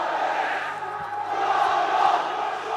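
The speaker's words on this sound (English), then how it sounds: "Listen to the crowd." Spectators at a schools rugby match between Bishops and Rondebosch make a sustained, rising roar of cheering and shouting that fills the whole moment.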